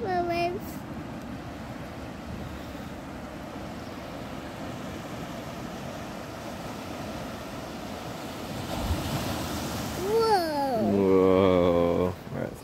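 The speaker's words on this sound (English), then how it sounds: "Careful, waves." Ocean waves wash onto the shore at Big Sur, a steady broadband surf roar with gusts of wind across the microphone, swelling louder toward the end, with people talking briefly near the start and close.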